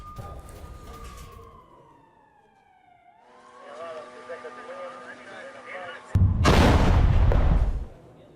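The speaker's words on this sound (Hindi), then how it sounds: "आईडीएफ की तोपों ने उगली है आग।" IDF artillery shelling in northern Gaza: after a wailing, siren-like tone, a loud close boom bursts out and roars for over a second before cutting off.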